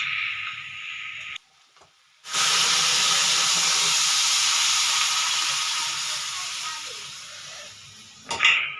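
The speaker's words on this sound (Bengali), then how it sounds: "তো মশলাটা ভালো করে কষিয়ে নিই।" A spice paste of chili and cumin sizzles loudly in a hot pan, a steady close frying hiss that drops out briefly, returns strong and slowly fades, with soft voice-like sounds underneath.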